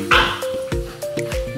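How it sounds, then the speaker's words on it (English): French bulldog puppies playing and tearing around, letting out a rapid run of sharp, close yips and short barks, several in quick succession with brief whimpering tones between. "My Frenchies, they bark and I wouldn't call it fight, but they definitely tear around, egg each other on."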